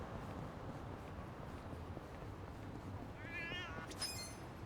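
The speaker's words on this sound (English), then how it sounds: "Run to this cat if you can hear it." A cat in Yakuza: Like a Dragon gives a couple of short meows near the end, faint over a noisy game background with no voices.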